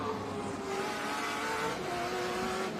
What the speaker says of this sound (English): how much he's working that car, changing the gears, getting on the acceleration